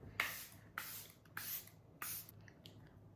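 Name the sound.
setting spray sprayed on face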